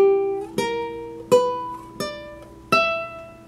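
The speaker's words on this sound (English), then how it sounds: "So in this case, I have a scale that sounds like this." Six-note drone scale played on a guitar: four clean plucked notes, each a sharp attack ringing out and decaying over a sustained drone, spaced evenly, close and moderately quiet, with no talking.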